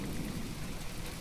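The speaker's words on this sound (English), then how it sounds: "there we go, rain is disappearing" Rain and thunder in the video game From The Depths form a brief, steady wash of falling rain with a low rumbling undertone, evenly loud across the short stretch.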